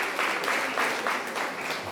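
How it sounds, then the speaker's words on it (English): Training session audience gives a short burst of steady applause, a dense wash of many hands clapping at moderate volume. "Can we clap hands for her?"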